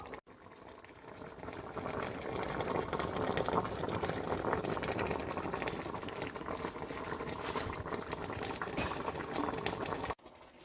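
Braised pomfret bubbles steadily in an Instant Pot, a continuous close simmering and popping that runs for about eight seconds before cutting off.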